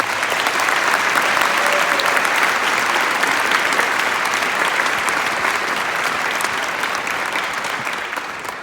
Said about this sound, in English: Let's give all our teachers a round of applause.